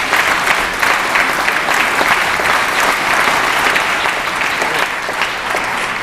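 A legislative chamber audience gives a loud, continuous burst of applause during California Governor Brown's State of the State address, dense even clapping filling the whole few seconds.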